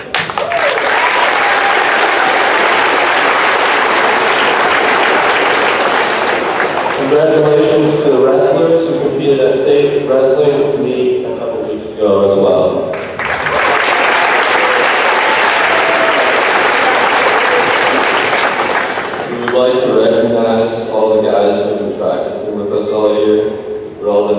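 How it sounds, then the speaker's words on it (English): Loud, sustained applause fills a school gym at a boys and girls state basketball pep rally, two long bursts of clapping separated by stretches where a voice speaks over the crowd. "Let's give them a round of applause."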